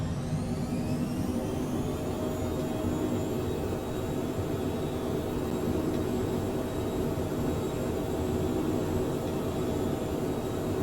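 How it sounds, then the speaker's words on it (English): A business jet in MSFS2020 takes off at full power, a continuous loud engine roar and whine holding steady throughout with no voices. "Back into the sky as we go, gears coming up."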